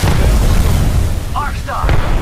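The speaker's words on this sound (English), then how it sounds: "Throw my grenade." A grenade in the video game Apex Legends bursts with a heavy, rumbling boom that fills the low end and swells over about two seconds, while a character's voice speaks briefly.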